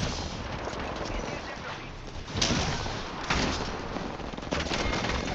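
Apex Legends gunfire crackles in dense, continuous volleys with sharper bursts near 2.4 and 3.3 seconds, loud and close amid a noisy battle mix, with voices shouting over it.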